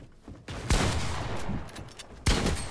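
Gunfire in the video game Fortnite: bursts of rapid, loud shots in quick succession, with one sharp volley early on and another near the end, and no talk over them.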